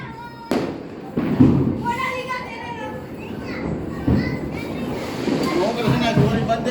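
Firecrackers go off with several sharp, loud bangs spaced a few seconds apart outdoors. Children's voices and chatter continue underneath.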